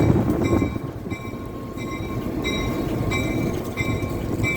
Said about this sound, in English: It's a different locomotive.